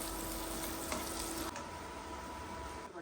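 Onions, capsicum and carrot fry in hot oil for street-style egg fried rice, giving a steady, close sizzle with light stirring scrapes throughout.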